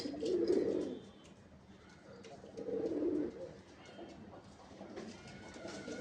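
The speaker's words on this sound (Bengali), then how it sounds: "কবুতরের ডাক দেখছো নি" Pigeons cooing at a pigeon farm, with two or three low, throaty coo phrases rising and falling close by, over soft background chirps and a faint hum.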